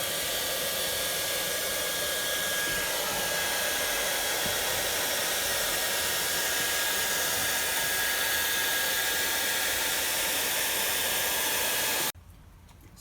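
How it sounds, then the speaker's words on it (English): Hair dryer blowing hot air steadily across PVC tubing as it softens for bending, a loud, constant broadband whoosh with a faint whine that runs close-up for about twelve seconds before cutting off abruptly. "the other side of the PVC tubing has been bent with the hair dryer"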